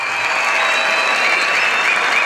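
Steady, dense applause from a conference audience in Mersin at a history lecture, a loud continuous wash of many hands clapping throughout, with no speech over it.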